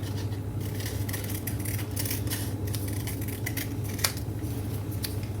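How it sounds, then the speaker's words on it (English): Scissors snip a curving cut through index-card art paper, a run of soft, quick closing clicks with one sharper snap near the end, close up over a steady low background hum. "I'm just going to do a little curvy cut"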